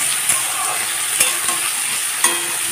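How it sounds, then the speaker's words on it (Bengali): Chopped onion, garlic and tomato fry over a high gas flame for a fish jhuro, a steady loud sizzle broken by a few sharp spatula scrapes and clinks, with no voices. "গ্যাসটাকে হাই ফ্লেমে রেখে পেঁয়াজ, রসুন আর টমেটোর কুচিগুলোকে ভেজে নেব।"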